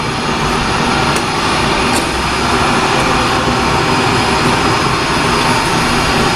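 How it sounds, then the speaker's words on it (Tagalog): A factory machine runs while preheating, giving a loud, constant roaring hiss with a deep rumble underneath. The noise stays steady throughout, with a couple of faint clicks. "Mag-preheat na po tayo ng makina."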